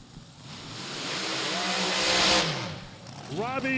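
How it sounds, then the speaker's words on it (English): A front-engine 481 Chevy drag car does a burnout at a hot rod drag racing event, a loud rising engine roar and tire screech that swells and fades, with a voice announcing over the top. "Robbie doing his burnout right now"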